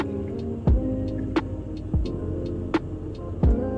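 Road traffic passing a school exit in Znojmo, Czech Republic, heard from inside a car: a low engine rumble and hum with several dull thumps and brief clicks, no talk.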